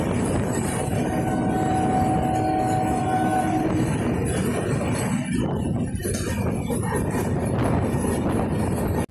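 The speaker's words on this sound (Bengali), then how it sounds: "এই মুহূর্তে আমাদের ট্রেনের সঙ্গে ক্রসিং হবে ট্রেন নম্বর 17005 হায়দ্রাবাদ টু রক্সুল উইকলি এক্সপ্রেসের সঙ্গে।" Two trains cross as the Hyderabad to Raxaul Weekly Express rushes past, a loud, continuous close roar of wheels and carriages with brief squealing tones early on that keeps up to the end.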